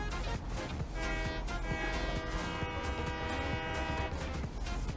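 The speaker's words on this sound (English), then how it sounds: "There you go. There's your choo-choo." A loud, sustained train horn from the video game Satisfactory blares continuously with rich layered tones, steady and close, filling the whole stretch with no speech over it.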